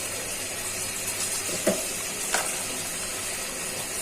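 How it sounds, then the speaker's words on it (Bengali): Ground cumin and coriander frying in a pan for a Bengali country chicken curry with jackfruit seeds, a steady moderate sizzle broken by two brief scraping clicks of stirring. "এখন একে একে সবগুলো মশলা দিয়ে দিচ্ছি"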